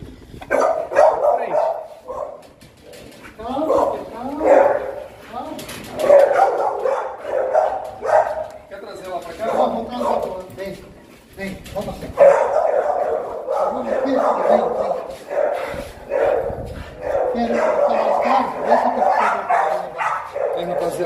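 Several dogs at a breeding kennel bark and yip in quick, overlapping bursts throughout, fairly close and loud, with a person talking intermittently underneath.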